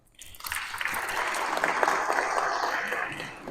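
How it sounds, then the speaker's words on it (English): Audience applause at a community mental health lunch-and-learn event, starting abruptly after a brief silence and holding at a moderate, even level of many hands clapping. "If you would just help me applaud them."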